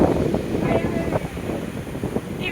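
Rough, stormy sea at Dwarka at sunset, with strong wind buffeting the microphone over a constant roar of waves, loud and close.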